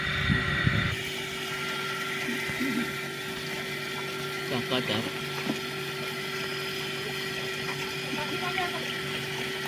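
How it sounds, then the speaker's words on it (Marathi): A water pump drains a shrimp farm pond outdoors, giving a continuous steady mechanical drone with a faint hum, while distant voices murmur in the background. "ह्या इकडे आता पाणी कमी करण्यासाठी पंप लावलेला आहे"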